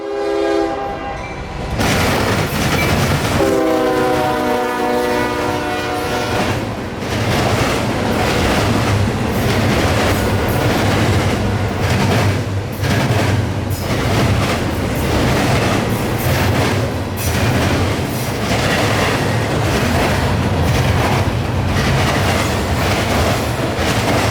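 A train horn blasts loudly, then a long freight train rumbles past close by with continuous rhythmic clattering of wheels over the rails.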